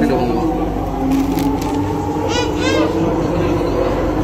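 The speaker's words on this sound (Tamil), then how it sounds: "அண்டர் கிரவுண்டில் தான் MRT இருக்கனால பயங்கர ஃபாஸ்ட்டாக போகும்" Singapore MRT train running fast through an underground tunnel, a steady loud rumble and rail roar throughout with a brief higher squeal midway, while a voice is heard faintly over it.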